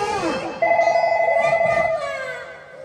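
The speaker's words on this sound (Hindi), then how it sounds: "बेटा का फोन कर रहा है" A telephone rings with a steady electronic tone lasting about a second and a half, fairly loud and close, fading into faint background murmur.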